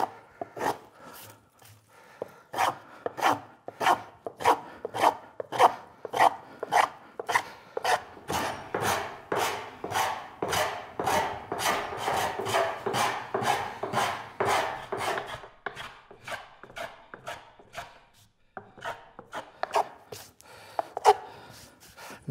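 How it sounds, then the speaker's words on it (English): A hand saw drives a plunge cut into wood for a sack-back Windsor chair, brisk forceful strokes rasping in a steady rhythm of roughly thirty close, loud pulses that slow and stop near the end. "And there goes the plunge cut."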